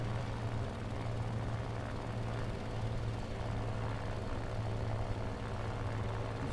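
An aircraft engine in a flight simulator video game drones as a steady, unbroken hum with a low propeller-like tone, fairly quiet and with no one talking.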